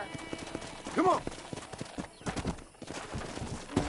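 Horse hooves clip-clopping and a horse neighing in the Western video game Red Dead Redemption, with a clear whinny early on and irregular hoof steps continuing under a voice.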